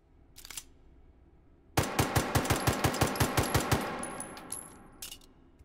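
Makarov pistol fired in the VR game Hot Dogs, Horseshoes & Hand Grenades: a brief lone report, a pause, then a rapid string of about a dozen evenly spaced close, loud shots with metallic mechanical clicks.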